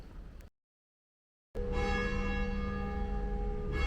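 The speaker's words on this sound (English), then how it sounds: "for what I believe is the 11 o'clock bells." Church bells ring at 11 o'clock in Deshaies, Guadeloupe, a loud, sustained bell tone with ringing overtones that cuts off and resumes after a second of silence, heard alone without voices.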